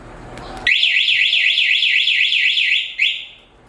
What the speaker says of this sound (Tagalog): So try ko naman yung panic button niya.